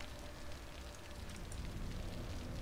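Steady rain pours in a survival horror video game, The Evil Within, a dense continuous hiss and patter with low rumble filling the whole stretch without pause or talk.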